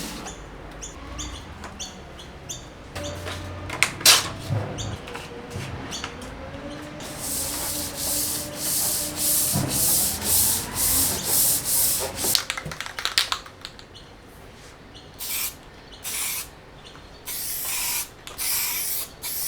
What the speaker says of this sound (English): we're gonna get this baby sanded and sprayed and looking brand new